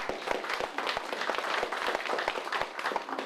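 Applause for the mayor of Gwangmyeong at a local gathering: scattered, fairly close hand claps from a modest crowd, irregular and continuous for a few seconds.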